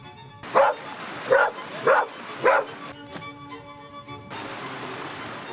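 Hunting dogs barking up a bushy mountain face, four loud, evenly spaced barks close by, followed by fainter yips and whimpers trailing off into quieter outdoor ambience.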